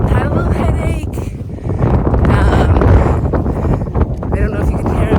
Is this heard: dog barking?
no